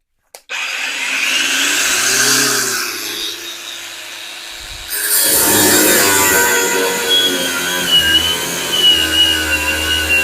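Grosser GAG 120N cordless brushless angle grinder with a 4 Ah battery spinning up at its first speed setting, a loud steady whirring whine that rises in intensity halfway through as it loads up, continuing throughout.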